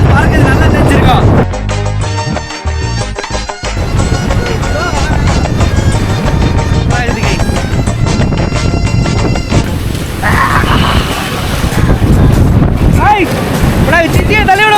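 Strong cyclone Fengal wind blows hard against the microphone, a loud continuous roaring buffet lasting throughout, with gusts rising and falling.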